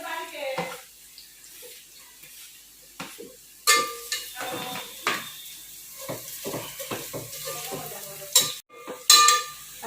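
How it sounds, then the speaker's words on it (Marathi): Sliced onion being sautéed in a pan for chicken biryani, with stirring scrapes and soft sizzling that come in bursts at a steady, close level. "अशा प्रकारे कांदा चांगला परतू द्यायचा"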